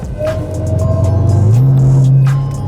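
A Dodge Challenger engine running on LPG revs up, its low drone climbing in pitch and holding steady, loud and close, with no talking.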